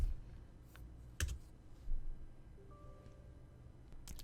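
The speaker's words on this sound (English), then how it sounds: "You can access it by typing MMC" Short bursts of keystrokes on a computer keyboard entering a command in Windows, a few quick clicks separated by pauses, close and fairly quiet with faint background tones.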